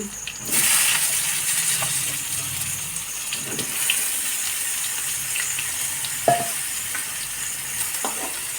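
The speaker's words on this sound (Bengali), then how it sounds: "আলু কাটাকে ভেজে নেব এই কড়াইতে" Potato pieces fry in oil in a wok for a fish curry, giving a steady, close broadband sizzle with a few faint stirring knocks and scrapes.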